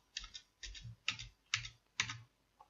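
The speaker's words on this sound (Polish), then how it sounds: "można go cofnąć używając przycisku Backspace na klawiaturze" Keys pressed on a computer keyboard while editing in Microsoft Word 2003, five evenly spaced sharp clicks, each with a thud and release, close and clear with no talking.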